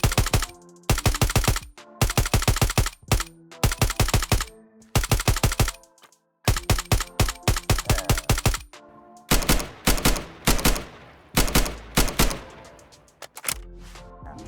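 Rapid bursts of AK rifle fire from a Minecraft combat mod, loud close volleys of sharp shots in quick strings with brief gaps, ending in longer echoing single blasts.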